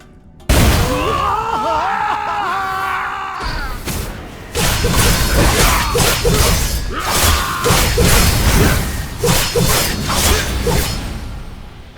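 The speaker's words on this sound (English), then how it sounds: "I heard an explosion." An explosion in a Blade & Soul game cutscene bursts in with a crash and shattering debris, followed by rumbling impacts and whooshing blasts that continue in a dense, loud wash.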